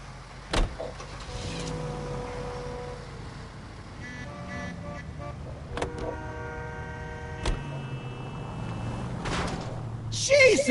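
Car engine in L.A. Noire, a steady drone with horn-like tonal bursts and sharp knocks, running under conversation throughout.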